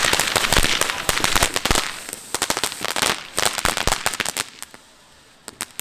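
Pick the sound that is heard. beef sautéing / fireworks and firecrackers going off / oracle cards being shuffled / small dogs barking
fireworks and firecrackers going off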